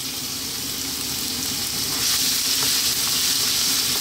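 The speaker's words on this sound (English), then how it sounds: "We're gonna start off by dropping in our ginger." Ginger and garlic sizzle in hot oil over high heat for a fish stir fry, a steady bright crackling hiss that stays close and continuous, with no voices.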